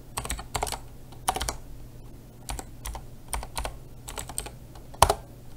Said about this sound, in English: Then you want to do your network key, so I'm going to type in mine.